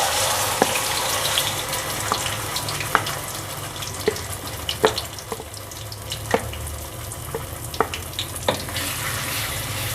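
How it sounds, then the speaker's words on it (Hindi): Spice paste frying in ghee for methi malai matar, a steady close crackling sizzle with scattered sharp pops throughout, no voices. "और इसको थोड़ा सा घी में भून लेंगे।"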